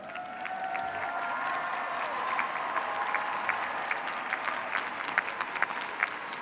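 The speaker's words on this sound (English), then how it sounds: "give all your supporters a big round of applause" A graduation ceremony audience at Wayne State University in Detroit gives sustained, even applause, a dense wash of many hands clapping that continues steadily throughout with no talking.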